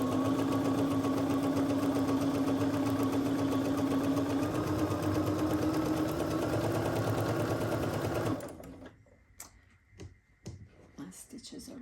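A sewing machine runs steadily while stitching flying geese quilt units, a loud continuous motor hum that stops abruptly, leaving a few faint clicks and handling sounds afterward.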